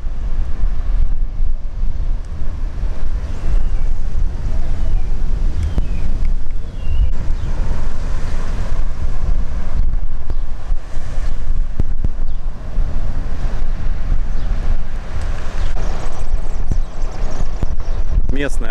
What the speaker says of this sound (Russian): Вот это уже Карибский пляж.